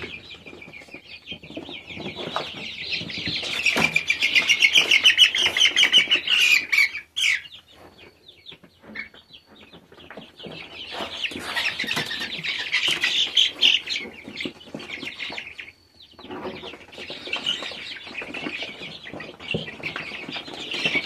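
Month-old chicks of the Newcastle fowl breed cheep and squawk loudly and continuously in a close, busy chorus, with brief lulls between bursts and no talking.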